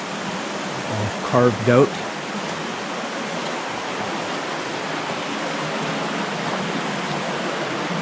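River water rushing through a carved rocky channel on Vancouver Island, a steady broadband roar close by, with a brief voice speaking over it early on.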